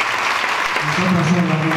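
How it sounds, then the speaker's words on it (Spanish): An audience at a charity gala breaks into a short burst of applause for Paco, with a voice talking over the clapping partway through. "Yo os pido por favor un fuerte aplauso para Paco"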